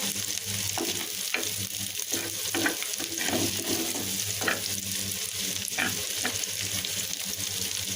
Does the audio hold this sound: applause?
no